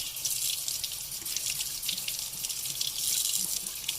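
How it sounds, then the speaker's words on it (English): Tap water runs and splashes steadily in a sink while large wild oyster mushrooms are rinsed, a continuous bright hiss with uneven spattering, close and alone without speech. "Rinse, rinse, rinse. Rinse your mushrooms."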